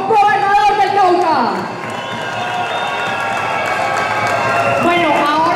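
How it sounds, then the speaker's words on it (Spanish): Loud crowd applause and cheering at a political rally for a candidate for governor of Cauca, dense sustained clapping blended with shouting voices, a sliding tonal sound dropping early on, then steady roaring noise throughout. "Un aplauso para el próximo gobernador del Cauca"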